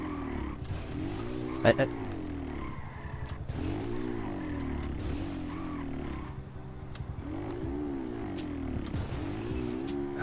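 A Honda Pop 110i motorcycle rides along in GTA V, its small engine droning and rising and falling in pitch as it revs, while someone talks over it and briefly exclaims.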